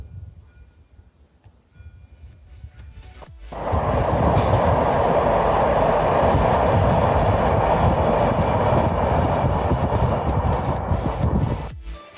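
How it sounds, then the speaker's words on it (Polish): A train rumbles past close by, loud and steady for several seconds with a continuous roar and rattle, after a quieter lead-in, then cuts off abruptly. "Zaraz będzie jechał pociąg."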